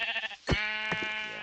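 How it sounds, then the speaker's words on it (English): A sheep bleats once in the Minecraft video game, a short, loud, wavering tonal cry that follows a moment of quieter ambient game sound. "this is the sheep that I heard earlier"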